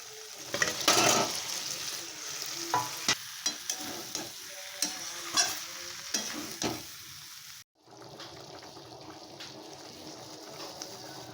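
Spice paste fries and sizzles in a pan while a utensil stirs it, leaving irregular scraping clatters and clinks over a steady hiss that grows quieter toward the end.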